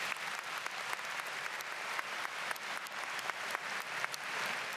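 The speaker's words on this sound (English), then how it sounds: "Can you please give them a round of applause" Steady applause from a large crowd at a high school graduation ceremony, a continuous dense clatter of many hands with a few sharper claps standing out, heard at a moderate, fairly quiet level.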